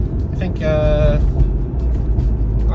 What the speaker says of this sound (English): I'm in 3rd gear right now at about 40 kilometers an hour